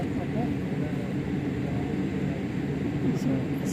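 Polish Airlines airliner taxiing and turning at Delhi Airport, heard from inside the cabin as a steady low engine rumble and broadband roar, with faint background voices.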